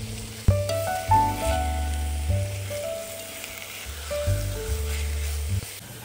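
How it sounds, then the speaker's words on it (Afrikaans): Meat sizzles and fries in a pot with salt, pepper and barbecue spice, crackling continuously up close while a few tonal clinks and hums sound over the frying. "Ek het begin om die vleis af te spoel en dan 'n bietjie te braai in 'n pot met gewone sout en peper en 'n bietjie barbecue spice."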